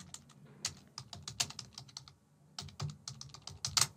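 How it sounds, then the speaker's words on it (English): An email address is typed on a computer keyboard, with close, quick bursts of key clicks, a brief pause midway, then more rapid tapping. "I'm typing the email."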